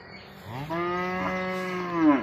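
A cow on a farm gives one long, close moo that rises and swells before tailing off, loud and drawn out over quiet outdoor background.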